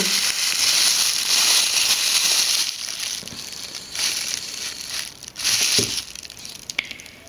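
Plastic bags of narcissus bulbs crinkle and rustle loudly up close, with bursts of crumpling and tearing that come and go over several seconds.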